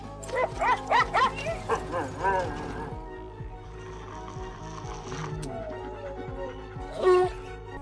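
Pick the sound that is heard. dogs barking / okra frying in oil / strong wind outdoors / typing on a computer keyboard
dogs barking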